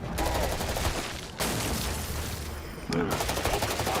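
Shotgun fire in a video game: loud, rapid bursts of blasts crowd the whole clip, with two sharp breaks where new volleys begin, mixed with game noise.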